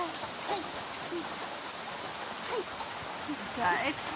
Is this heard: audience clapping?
no